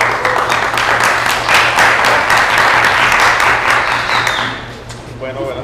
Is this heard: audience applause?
yes